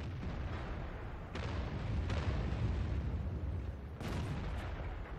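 Tank cannon fire in World of Tanks, M46 Patton KR gameplay: a steady rumbling battle bed with a few sharp booming shots around the middle and near the end, loud and without talk.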